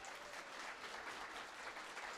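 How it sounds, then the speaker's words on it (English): An audience at an all-staff library meeting gives a steady round of applause, dense and even, at moderate, slightly distant volume. "if we could give a round of applause for everyone"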